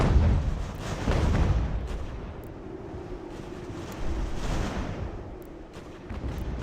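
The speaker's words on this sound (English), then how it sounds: "Our mortars are doing a magnificent job in the center." Mortar artillery booms in the strategy game Ultimate General: American Revolution, a series of deep, muffled rumbles rolling in the distance over a low, continuous battlefield drone.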